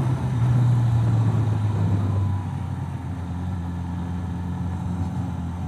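A 2023 Suzuki GSX-S1000GT touring motorcycle idles with a steady low hum, a bit louder for the first two seconds and then settling to an even, quieter rumble.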